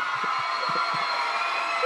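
An audience at an Adventist youth camporee greets a pastor with a steady wash of applause and crowd cheering, loud and continuous, with a few faint shouts poking through.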